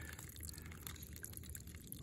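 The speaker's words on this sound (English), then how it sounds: "This little trickle water isn't that bad." Water trickles and drips from a weeping Irritrol 2400T irrigation sprinkler valve during a repair. The soft, steady liquid patter is close by and carries faint scattered drips, with no talking.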